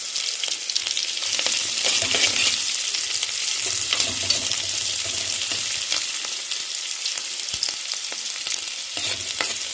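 Chopped onions sauté in a hot pan on a home stove, a loud, continuous crackling sizzle with occasional stirring clinks and no voices.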